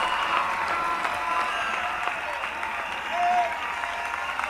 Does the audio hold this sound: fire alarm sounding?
no